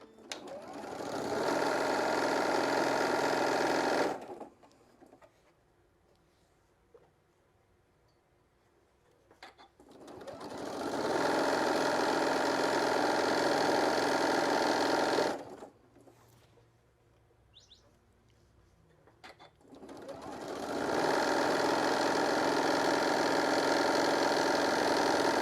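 Sewing machine stitching fabric for a shoulder wrap in three long steady runs of fast motor whir, each lasting several seconds, separated by quiet pauses with small handling clicks.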